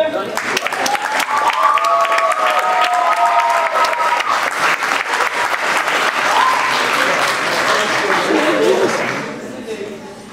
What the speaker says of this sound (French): une bonne fin d'applaudissement pour cette équipe.